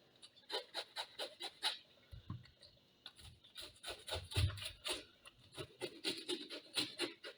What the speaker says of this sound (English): I'm going to be using this to scrape the outer parts.